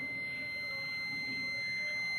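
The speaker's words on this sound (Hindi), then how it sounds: "ये देखें ये बजर बज रही है" A multimeter's continuity-test buzzer, checked on the pins of an 8-pin timer relay, gives a steady, faint, high-pitched beep that holds throughout over low background hiss.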